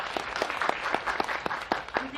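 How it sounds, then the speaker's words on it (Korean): A cinema audience at a special guest-talk screening in Lotte Cinema Konkuk hall 2 claps steadily and fairly close, a dense patter of many hands with evenly spaced sharper claps standing out across the whole stretch. "박수 부탁드립니다."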